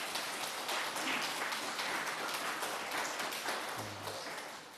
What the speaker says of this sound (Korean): 우리 옆에 있는 분들 박수로 환영했으면 좋겠습니다